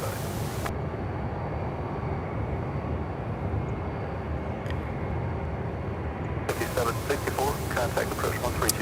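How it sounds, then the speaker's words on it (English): An airliner landing on runway 18 left at Charlotte Douglas International Airport gives a steady, broad jet roar that holds for the whole stretch, with a rougher, rattling edge building near the end. "This one coming in for a landing on 18 left."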